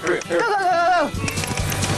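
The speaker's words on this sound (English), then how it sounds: "Sheep like to be in a herd, and so if one gets scared off, it'll run back to the herd later on." Sheep bleat loudly and close while being herded over a jump in a Taiwanese challenge show, one long wavering bleat followed by a voice talking over quieter bleats.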